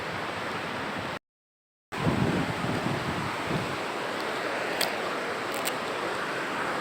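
Sea waves and wind roar steadily at Kuakata beach in the Kauar Char area, a loud, close wash of surf and wind buffeting that briefly cuts out to silence before the surge returns.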